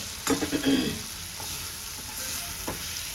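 Gunda, mango and chili sambharo cooking in a pan, with a steady sizzle and a few brief stirring scrapes early on, heard alone.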